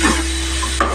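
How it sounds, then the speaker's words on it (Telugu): Onion, curry leaves and green chillies fry in hot oil in a pan for a Telugu-style curry, giving a steady close sizzle with a couple of brief stirring scrapes and no talk. "ఉల్లిపాయ, కరివేపాకు, పచ్చిమిర్చి వేసుకున్నాము ఆయిల్లో"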